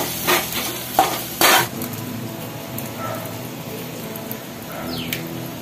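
Food frying in a pan while being stirred: a few loud clattering scrapes of a utensil near the start, then a quieter ongoing sizzle with occasional light scrapes and faint chirpy sounds.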